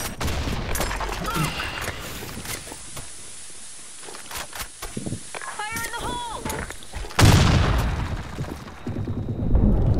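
Gunfire in the video game Blackshot, with a series of sharp irregular shots and thuds under brief talk, followed near the end by a louder, broader blast consistent with a grenade explosion.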